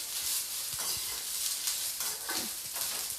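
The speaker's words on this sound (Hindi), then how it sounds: "प्याज को भी मैंने 1 मिनट तक भून लिया है।" Onion frying over a low flame makes a steady broadband sizzle, broken by several soft scraping strokes of a spoon stirring in the pan, close and moderately loud.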